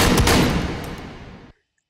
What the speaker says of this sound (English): Normal flare gun.